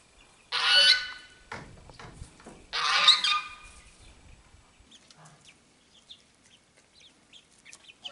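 Geese in a garden let out two loud, close honking bursts a couple of seconds apart, followed by softer scattered clucks and murmurs amid near quiet.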